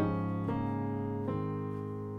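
A gospel song ending played on keyboard: sustained rich chords that shift twice before settling and ringing out slowly, alone and fairly soft.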